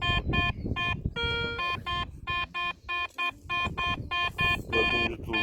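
Rapid, choppy electronic beeping from a metal detector sounding on iron, short bursts repeating unevenly over a low rumble, loud and close.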